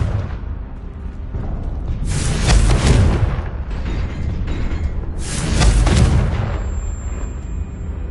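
Two fiery spell blasts in Hogwarts Legacy, each a heavy booming burst with a crackling tail, spaced a few seconds apart over a low rumbling game backdrop.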